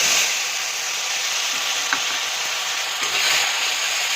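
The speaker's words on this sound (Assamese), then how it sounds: "এতিয়া খুব ধুনীয়াকৈ লৰাই ল'ম" Turmeric and a ground paste frying in hot oil for egg curry, stirred in a pan: a steady close sizzle and hiss throughout, with small scraping stirs near two and three seconds.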